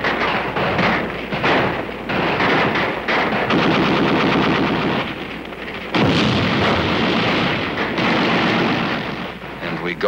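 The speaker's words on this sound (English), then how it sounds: "whoever runs gets cut down with small arms fire" Battlefield fire in Korea: heavy small arms and machine gun bursts, rapid and dense, with repeated loud cracks and booms sustained for ten seconds.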